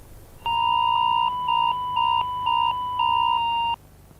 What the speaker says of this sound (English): warnings of the attack will be broadcast through a text message warning and sound